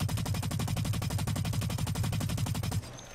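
An AR assault rifle in the video game Blacklight: Retribution fires in one rapid automatic burst of about thirty evenly spaced loud shots, then cuts to a faint tail, no speech.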